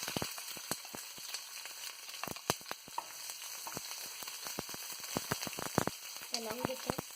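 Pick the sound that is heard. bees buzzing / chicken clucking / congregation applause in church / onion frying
onion frying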